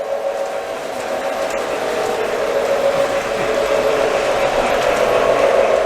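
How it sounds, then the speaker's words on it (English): Union Pacific model train running on a museum layout, a steady mechanical whir with a constant tonal hum that holds at an even, moderately loud level throughout, with no clear talk over it. "Here comes that Union Pacific train again."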